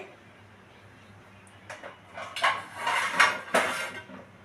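A metal lid is set onto a pot of potatoes and chickpeas put on to boil, producing a few close clanks and rattles of cookware that build to several sharp metallic knocks, then settle.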